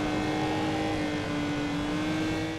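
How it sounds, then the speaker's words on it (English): Porsche GT3 race cars in the racing game GRiD: a continuous loud engine drone with a sustained steady pitch, heard alone. "These are the GT3 Porsches catching up to me."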